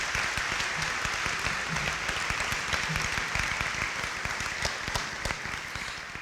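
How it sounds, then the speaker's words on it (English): A college convocation audience gives a sustained round of applause, dense and even throughout, moderately distant, with no talking over it. "ARC community, please join me in another round of applause to thank Dr. Work for bringing his liberator"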